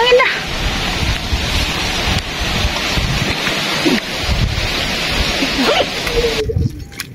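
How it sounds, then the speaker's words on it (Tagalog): Strong wind buffets the microphone in a loud, continuous roar beside a small stream, with faint voices in the background before it drops away at the end. "Hangin na."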